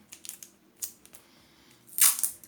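Colored adhesive tape is handled and cut close up in a quiet room: a few light crinkles and taps, then a brief sharp tearing rip near the end.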